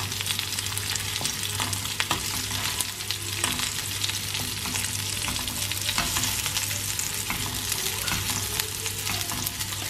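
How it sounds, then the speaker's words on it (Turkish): Sucuk sausage fries in a pan, sizzling and crackling steadily and close for the full length, with scattered pops and no talking. "Kızlara birazcık sucuk kızartıyorum."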